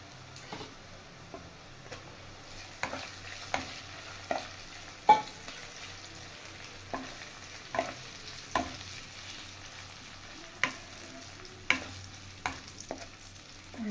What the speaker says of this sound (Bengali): পেঁয়াজটা ফ্রাই হয়ে গেছে, আর বেশি ফ্রাই করব না। এবার দিয়ে দেব ভেজে রাখা আলু।